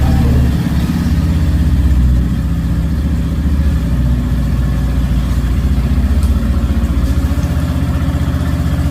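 A new car's engine running after being started with the self-starter, a loud, close, steady low rumble with a slight rev early, then settling into an even idle.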